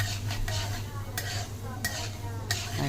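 Greens being fried and stirred in a pan for a Telugu amaranth and spinach chutney, with a steady sizzle and recurring scraping strokes of the spoon against the pan under a low hum.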